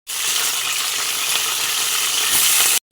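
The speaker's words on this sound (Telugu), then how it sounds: "ఇప్పుడు వంకాయలు వేయించుకుందాం." Eggplants sizzle steadily in hot oil in a pan, a dense continuous frying hiss that stays loud and even for nearly three seconds before cutting off.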